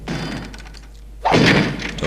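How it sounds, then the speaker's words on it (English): A door being smashed in the stealth video game Thief Gold, with a low rumbling thud followed by a sudden, louder crashing burst of splintering impact. "doors can also be smashed"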